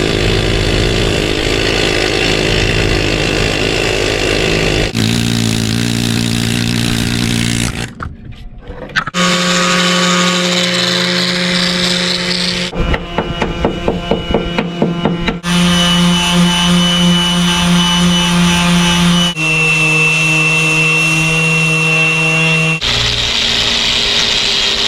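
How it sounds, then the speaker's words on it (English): Power sander working on the steel hull and metalwork of a boat: a loud continuous grinding drone in several long passes, changing pitch between sections with brief pauses, close to the listener with no talk. "Some more sanding."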